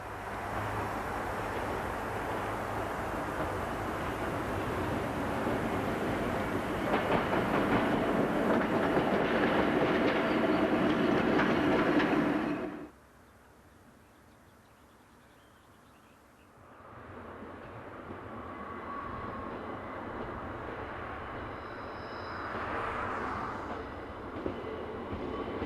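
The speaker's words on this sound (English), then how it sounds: "754-040 is seen arriving from the east with a short parcel service." A Czech class 754 diesel locomotive arrives from the east with a short parcel train on a non-electrified line, a loud rumbling train passing close before cutting off abruptly, then a quieter distant engine drone returns.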